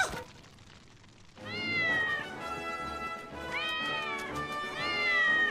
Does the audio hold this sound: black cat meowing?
yes